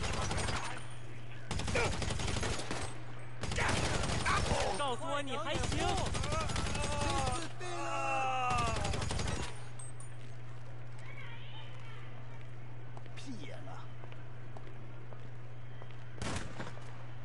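Bursts of automatic gunfire in GTA V Online at a nightclub, several loud volleys in the first half with voices talking over them, then scattered single shots and game ambience later.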